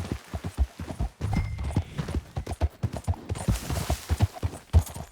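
Steady clip-clop of a horse's hooves trotting at a brisk, uneven rhythm in the video game Red Dead Redemption 2, close and clear, with faint background noise and no voices.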